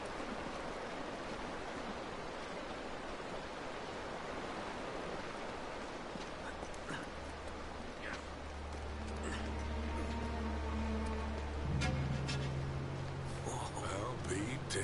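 Steady rushing water from a waterfall in the video game Uncharted: Drake's Fortune roars throughout, a dense broadband wash, with a low rumble and faint tones building in the second half.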